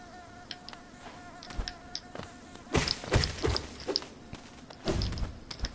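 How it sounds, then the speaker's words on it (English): Bees in the Hollow Knight video game, a thin steady insect buzz with faint tonal whine, punctuated by several thuds and game impact sounds. "Little buzzing bees."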